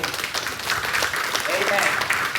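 A church congregation gives a sustained round of dense applause that fills the whole stretch at an even level, with voices murmuring and calling out underneath.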